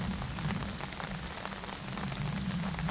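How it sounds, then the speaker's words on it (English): Light sprinkling rain falls steadily outdoors on a warm day, making a soft, continuous patter and hiss with a low rumble underneath, no voices. "It's still sprinkling rain."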